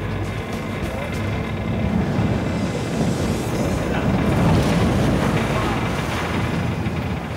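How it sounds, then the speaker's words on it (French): Strong wind and heavy ocean waves pound a ship near Cape Horn, a loud, dense roar of gusting air and crashing water that persists without pause, with creaks from the hull blended in. "La puissance de certaines vagues fait craquer le navire."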